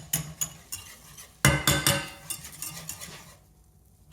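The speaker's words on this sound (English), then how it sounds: "I mix the flour and the butter together." Butter and flour stirred together into a roux in a pan, with a utensil scraping and clinking against the metal in uneven strokes, close and fairly quiet.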